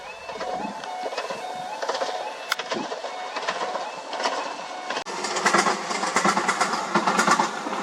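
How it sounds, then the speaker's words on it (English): A train rumbles along the Berney Arms track near Breydon Water, Great Yarmouth, with rhythmic clattering of wheels over rail joints growing louder in the second half. "When the train is on the Burney Arms track, it's always got such a distinctive noise"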